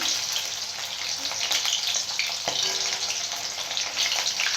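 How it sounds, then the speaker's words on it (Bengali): Pieces of chili chicken fry lightly in hot oil with capsicum, giving a constant bright sizzle and spatter, close and steady, with a brief clink of stirring midway. "ভাজতে হবে খুব হালকা"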